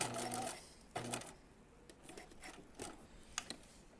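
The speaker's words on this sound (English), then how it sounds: "I'm going to be stitching at 5/8 of an inch around those 3 edges." A sewing machine stitches seams on a pair of jeans, running in short bursts with pauses between, close and fairly loud, with no talking.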